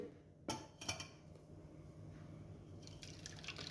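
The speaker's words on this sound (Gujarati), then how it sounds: "તો હવે આપણે ગાળી લઈશું" Blended pani puri water is strained, giving soft drips and liquid trickles with a couple of sharp taps near the start, all quiet and close with no talking.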